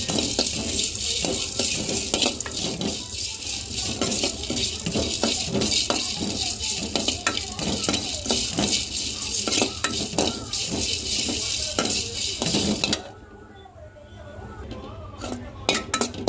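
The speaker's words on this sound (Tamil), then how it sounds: "சீரகம், மிளகு, புளி 3த்தையும் போட்டு அதை பேனில் நல்லா வறுத்து" Cumin, pepper and tamarind are dry-roasted in a pan, with a spoon repeatedly scraping and clinking against the metal and a light sizzle underneath, continuous and close, ending in a quieter pause.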